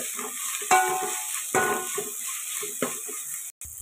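Chicken fries with mint leaves in a pan for biryani, a steady soft sizzle underneath a few clear stirring clacks and scrapes of a spoon, close by and without speech.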